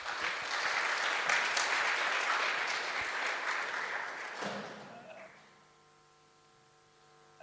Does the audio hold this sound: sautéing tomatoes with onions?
no